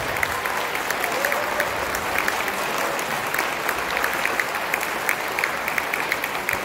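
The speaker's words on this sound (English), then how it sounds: "give those folks a round of applause" An audience at a high school spring concert applauds band volunteers, a loud, sustained, even wash of clapping from a sizeable crowd throughout.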